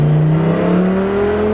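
A Lamborghini at full throttle from a green light, its engine note climbing steadily and loud, close and continuous with no talk over it.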